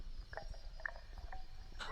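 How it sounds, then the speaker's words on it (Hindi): Dense insect chirping from crickets in a forest at night, a steady continuous trill with faint repeated pulses, moderately quiet and alone. "बस सन्नाटा और झींगुरों की तेज आवाज जो अब पहले से ज्यादा डरावनी लग रही है।"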